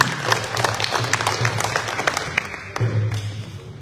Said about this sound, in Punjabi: ਇੱਕ ਵਾਰੀ ਜ਼ੋਰਦਾਰ ਤਾੜੀਆਂ ਤੁਹਾਡੇ ਸਾਰਿਆਂ ਨੂੰ